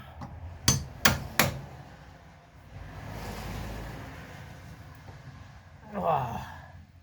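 A hammer strikes a bolt on the lower ball joint of a 2002 Nissan Pathfinder three times in quick succession, sharp metallic close taps, followed by quiet shuffling and a low breathy voice.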